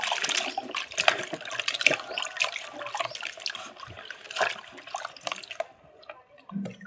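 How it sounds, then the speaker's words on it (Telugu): Cut drumstick (moringa) pieces are washed in water, giving irregular splashing, trickling and dripping sounds that are close and fairly quiet, with no talk. "ఆ ములక్కాయలు వచ్చేసేటప్పటికి ఇలాగా మనకు సరిపోని సైజు కట్ చేసుకొని వాటర్లో కడుక్కోవాలి."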